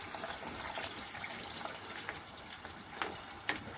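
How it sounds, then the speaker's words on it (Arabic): Boiling water is poured into a pot of sautéed rice, a soft continuous gushing and splashing at low level with a few small clinks near the end. "هنبدا ان احنا نزوده بالميه المغليه معانا"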